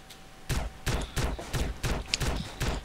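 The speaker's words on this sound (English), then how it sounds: "I'm apparently really good with an MP5 leg shooting" An MP5 submachine gun fires in the multiplayer game SA-MP as a rhythmic series of about six loud, sharp gunshots spaced roughly a third of a second apart, with no talking over them.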